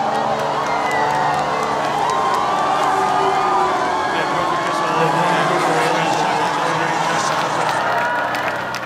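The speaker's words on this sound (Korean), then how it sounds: "의전 차량이 멈출 때마다 함성은 더욱 커집니다." A huge crowd of about a million people roars and cheers along a papal parade route for Pope Francis in Korea, a dense, continuous wash of distant voices with no break.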